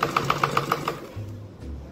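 A sewing machine stitches a blouse in a short, even burst of rapid needle clatter, close up, then stops and leaves a low hum.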